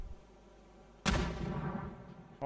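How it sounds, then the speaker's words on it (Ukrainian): Grenade explosions in a tactical video game match: a loud sudden blast about a second in, followed by a long rumbling decay and scattered crackle, with no talk. "Ого, тут уже гранати."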